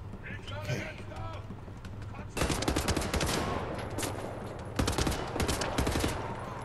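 Gunfire in Wolfenstein: The New Order, with dense bursts of rapid automatic shots starting a couple of seconds in, close and loud, with a second burst near the end. Background game noise runs under it and a voice talks earlier.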